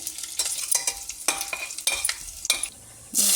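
Fennel seeds crackle and fry in mustard oil in a pan, with bursts of sizzling and stirring scrapes coming in uneven pulses, close and fairly loud, without any voice.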